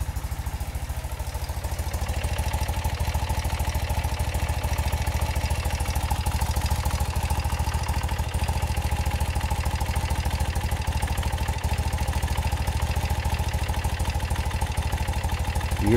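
A BMW Airhead motorcycle engine idles steadily during carburetor adjustment, a close, continuous low throbbing with mechanical clatter and no talk.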